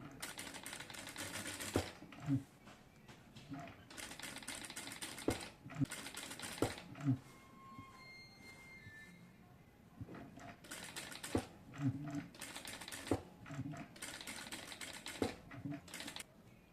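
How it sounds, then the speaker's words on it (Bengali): Sewing machine stitching a dress neckline, running in fast rattling bursts of a few seconds each, separated by short pauses, close and fairly steady. "আমি হচ্ছে একটি সেলাই করে নিছি তো আমি হচ্ছে এই পাশে হচ্ছে আরেকটি সেলাই করে নেব"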